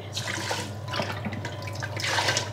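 Water poured from a glass into a cooking pot for khichdi, seven glassfuls in all, giving a few close splashing, gurgling pours in separate bursts with no talk.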